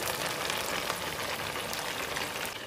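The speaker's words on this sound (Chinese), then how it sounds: "全部给它翻过来，另外一面再给它煎一下。" Chicken wings sizzle steadily in oil in a pan over low heat, a constant close crackling hiss with no voices.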